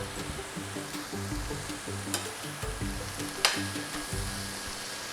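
Cabbage, carrots and onions sizzle and fry in a pan, a steady close crackle with a few sharp clicks from stirring, and no talking.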